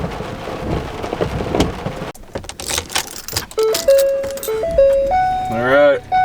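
Steady rain pours down with a dense, close hiss for a couple of seconds, then cuts abruptly to other sounds: voices, thumps and a wavering melodic tone.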